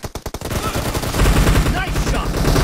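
Scar-L assault rifle fire in the mobile battle royale game PUBG Mobile: a quick burst of sharp, close shots followed by a dense, continuous rumble of gunfire and game effects.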